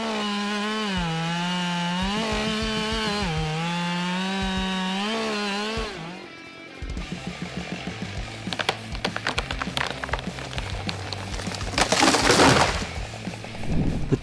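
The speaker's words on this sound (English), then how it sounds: "This Husky 572 XP chainsaw is lightweight and portable" A Husqvarna 572 XP chainsaw drones loudly with its pitch rising and dipping, then bites into wood with rough, crackling cutting and splintering noise.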